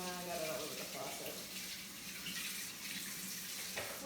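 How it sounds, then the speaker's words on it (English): A kitchen faucet runs steadily for a few seconds as a hand is rinsed under it, close and continuous, with some faint vocal sound mixed in underneath. "And need to rinse off my hand."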